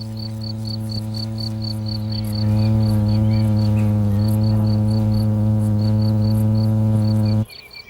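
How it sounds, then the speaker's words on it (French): Wasps fanning their wings at the nest make a loud, steady droning buzz that swells partway through and holds evenly before cutting off abruptly near the end. "Celles-ci ne servent plus à voler, mais à créer un courant d'air, telles les pales d'un minuscule ventilateur."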